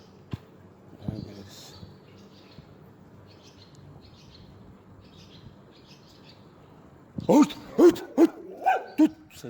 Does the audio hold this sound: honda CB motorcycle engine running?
no